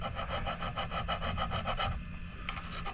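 Rhythmic back-and-forth sanding of guitar fret ends, a steady series of quick rasping strokes that stops near the end, close and fairly loud.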